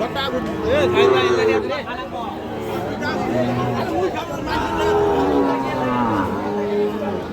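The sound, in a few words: Sahiwal bull calf mooing at cattle market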